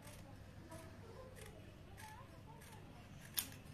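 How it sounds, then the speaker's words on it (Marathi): Scissors cut through saree fabric for a gharara palazzo, making soft, quiet snips spaced apart over a low room hum, with one crisper snip near the end. "शेवटच्या लेअरचा कपडा आपण इथे कापून घेतला"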